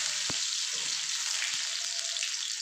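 Chopped garlic and onion hit hot oil already seasoned with a spoonful of cumin seeds, giving a soft, even sizzle with a few light clicks of stirring, heard alone and fairly quiet.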